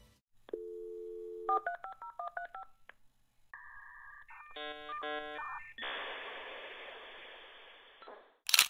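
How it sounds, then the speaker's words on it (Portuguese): A 1990s dial-up modem connects: a steady dial tone, a quick run of keypad dialing tones, then warbling handshake beeps and chirps that give way to a loud, sustained hiss of static, all close and with no voices. "Os primeiros modems faziam barulhos estranhos ao se conectar"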